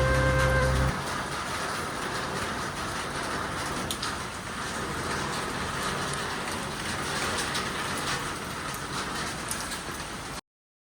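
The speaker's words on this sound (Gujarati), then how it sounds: "જુઓ સવારનો વરસાદ" Steady morning rainfall, a continuous broadband hiss of drops on surfaces that holds at an even level for about ten seconds, with no voices and a few brief louder ticks.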